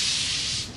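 Sandpaper rubbed by hand over the metal of a custom slip-on exhaust for a Triumph Rocket III, a steady, loud, close scratchy hiss that holds for a moment and then eases off.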